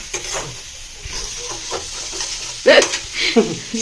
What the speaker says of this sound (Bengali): গ্যাসটাকে এবার জোরে দিলাম একদম ঝুড়ো ঝুড়ো করে ভাজতে হবে